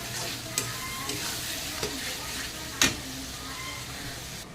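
A ground paste of ginger, garlic, coriander and cumin fries in a pan with a steady close sizzle, broken by a few sharp scraping stirs.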